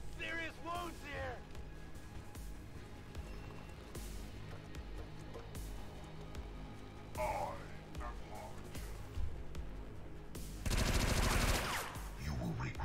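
XCOM 2 shootout with bursts of game gunfire and crashes mixed among voiced lines and effects, ending in a loud, dense volley near the end while people talk over parts of it.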